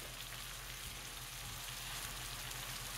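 Garlic frying in a pan for shrimp scampi gives a steady, close sizzle with a soft, even crackle that holds throughout, and no one speaks.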